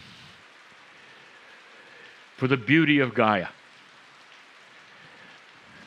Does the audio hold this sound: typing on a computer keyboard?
no